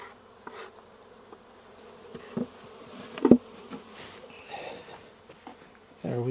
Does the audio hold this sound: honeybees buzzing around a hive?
yes